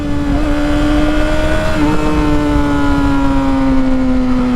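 A Yamaha R6 sport motorcycle fitted with an exhaust mod runs loud and close, its engine holding a steady high drone with a slight pitch rise partway through and no voices.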